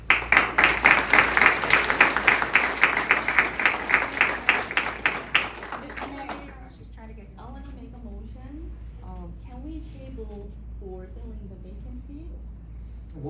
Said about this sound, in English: Round of applause for our county chairman.